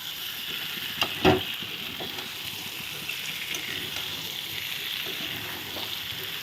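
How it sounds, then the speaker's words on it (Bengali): Aloo dum potatoes sizzle in a pan while being stirred, with a continuous frying hiss and a couple of sharp scraping knocks of the spatula early on. No voices are heard. "এখন আমি এই আলুর দমও নেড়ে নেব"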